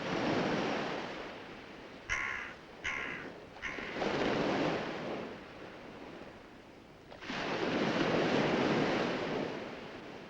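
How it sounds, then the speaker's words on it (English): A pied crow gives a few harsh caws near the sea, close at hand. Steady, loud surf and wind roar around the calls and swell again after them. "the local hoodlum is hanging around, the pied crow"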